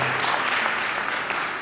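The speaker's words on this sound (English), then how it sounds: "So I'd like to give you a round of applause for welcoming me" An audience at a school student government inauguration breaks into steady, moderately loud applause, a continuous patter of many hands from start to finish.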